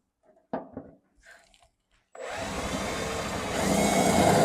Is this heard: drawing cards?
no